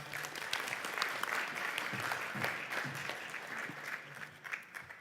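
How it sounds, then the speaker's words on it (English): Audience applause, a steady, moderately quiet patter of many hands clapping throughout, without much cheering and fading slightly toward the end. "Give him a clap"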